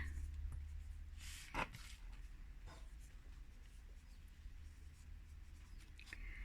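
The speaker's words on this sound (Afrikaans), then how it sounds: "Nou, is my pinkerige pen wat rooi skryf." A pink pen writes in red ink on paper with faint, quiet scratching strokes and one slightly sharper scrape partway through, all very soft and close.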